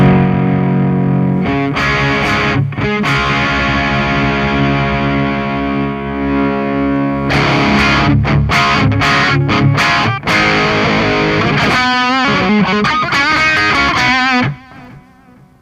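Heavily distorted electric guitar through a Fender Deluxe Reverb amp in an isolation cabinet, loud sustained chords and riffs with short gaps, then fast picked notes before cutting off near the end.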